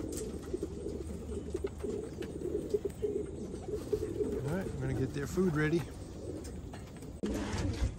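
Racing pigeons coo repeatedly in a loft, soft rolling calls with some wing and shuffling noise, while a person talks over them for part of the time.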